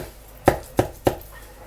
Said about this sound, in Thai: ดี๋ยวสับไปนิดนึงแล้วกันเนาะ สับสับนิดนึงชิ้นเล็กๆ